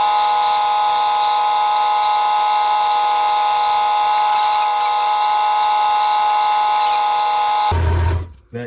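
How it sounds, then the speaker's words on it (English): A wooden coffee tamper spinning on a lathe is sanded with 320-grit paper on a foam backing, giving a loud, steady whine with a constant hum that cuts off abruptly near the end. "Get it on that foam side and get to sanding."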